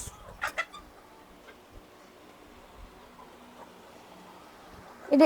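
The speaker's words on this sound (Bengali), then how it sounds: "এটি হচ্ছে টাইগার মুরগি" Tiger breed chickens on a poultry farm let out a couple of short clucks at the start and another burst at the end, with a quiet farm background in between.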